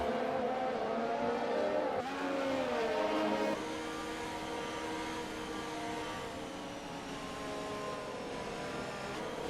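A pack of Formula 1 cars in an F1 racing game at the Italian circuit, engines droning and revving together under safety-car pace as the restart nears, with one clear pitch shift early on, then a steady close whine.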